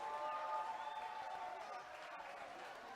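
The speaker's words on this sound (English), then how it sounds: "Crowd is roaring here at the Gas House." Spectators roar and cheer at the Gas House during an Atlantic League South playoff baseball game between the High Point Rockers and Gastonia, a sustained crowd noise that eases slightly partway through, with speech mixed in.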